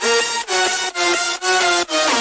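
Bright, buzzy synth lead with thick stacked layers, playing sustained notes in a steady rhythm with brief gaps between phrases, loud and upfront.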